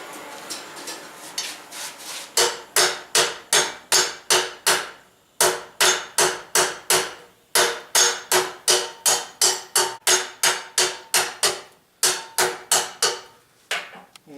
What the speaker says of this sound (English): forge that down to a taper